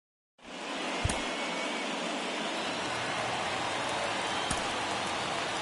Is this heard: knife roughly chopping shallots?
no